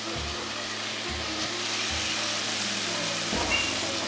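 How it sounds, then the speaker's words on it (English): Minced garlic sizzling in a pot for a one-pot meal, a faint, steady frying hiss that continues throughout with a low background hum. "We're going to add in about 2 tablespoons of garlic,"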